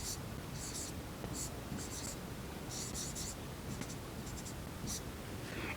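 Pen scratching on paper while handwriting a math solution, soft bursts of writing strokes under quiet whispered talk and steady background hiss.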